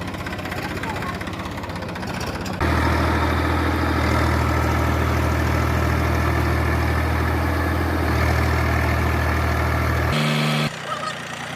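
A tractor engine powering a vertical boring machine runs steadily at close range, a loud continuous rumbling drone that briefly changes pitch and then cuts off near the end.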